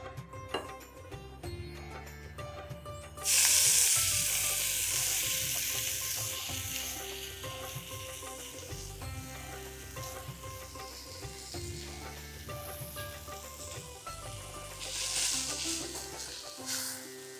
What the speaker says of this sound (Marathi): आपण ही मेथी जरा तेलावरती परतून घेऊया